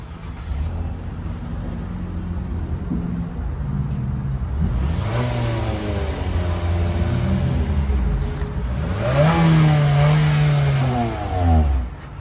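A 2022 Nissan Altima SR VC-Turbo engine idles low, then revs up twice with rising, whining pitch, the second rev louder and longer before settling back down.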